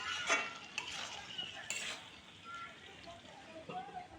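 Taro corms (kochur mukhi) being stirred in a pan while simmering, with scraping and clinking of a spoon against metal in a few bursts over a faint sizzle, fairly quiet and close.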